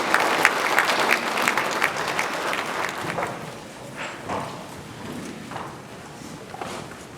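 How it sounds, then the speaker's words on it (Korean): An audience at a Catholic diocesan symposium in Jeju applauds to welcome the bishop, with loud, dense clapping at first that gradually thins and softens into scattered claps over several seconds. "큰 박수로 주교님을 모시겠습니다."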